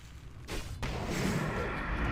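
A grenade explodes in World of Warcraft Classic: The Burning Crusade, a sudden broadband blast followed by a loud, sustained rumble that fills the rest of the moment.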